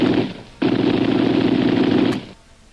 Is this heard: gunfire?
yes